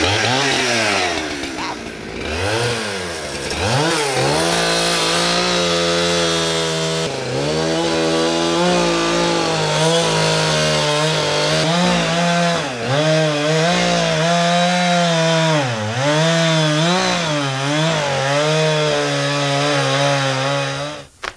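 A chainsaw cuts blocks from a poplar trunk, the engine droning loud and close throughout with repeated rises and falls in pitch as the chain bites into and eases off the wood.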